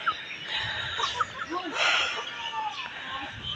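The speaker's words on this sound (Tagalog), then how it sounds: "Ayan, manok panabong, manok pang tinula." Fighting cocks and other fowl on a Filipino farmyard, scattered clucks and short squawks close by, mixed with background chatter and rustling.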